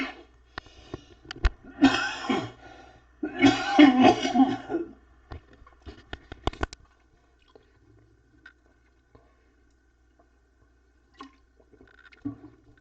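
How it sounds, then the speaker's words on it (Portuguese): A man coughs in a few harsh, broadband bursts early on, the loudest pair close together near the start, followed by near silence with faint small noises. "Perdão mais uma vez aqui pela tosse chata"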